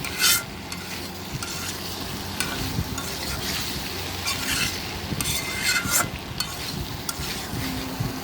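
Potato and aubergine curry with hilsa fish sizzles steadily in a pan as it is stirred and broth goes in, giving close, continuous frying hiss with scraping stirs and occasional sharper splashes.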